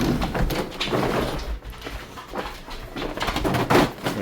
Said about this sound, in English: The doors.